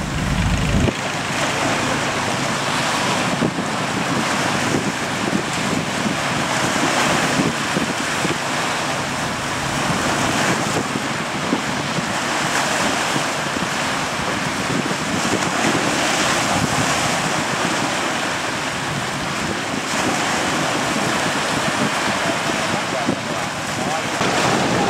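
Strong wind roars into the microphone over steady crashing surf as a small fishing boat runs with the waves on a rough sea, the noise loud, dense and unbroken throughout.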